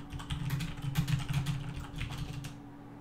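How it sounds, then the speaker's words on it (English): A computer keyboard is struck hard during typing, giving a rapid, uneven run of loud, close clacking keystrokes over a steady low electrical hum, then stopping near the end. "I apologize for whacking the keyboard a little bit."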